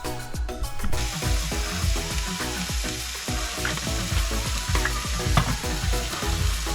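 Steaks sizzle and spit in a hot pan in the kitchen of an Airstream trailer, a loud, steady frying crackle that runs the whole time with dense popping bursts and no talking.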